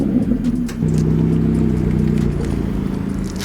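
Engine of a BMW M1000RR superbike at a motorcycle dealership, running steadily at elevated revs with a sustained mid-low drone that holds for a few seconds, then settles slightly lower; no talk.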